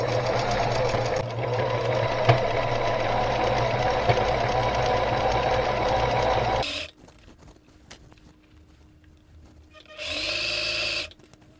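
Sewing machine running a widened zigzag stitch across denim jeans for a recycled skirt, a steady loud mechanical whir for about seven seconds, then near silence and a shorter burst of stitching near the end.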